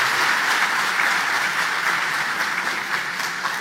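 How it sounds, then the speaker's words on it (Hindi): An audience claps steadily through a motivational class session, a loud, even wash of applause with no break. "ताली तो बजा दी आपने"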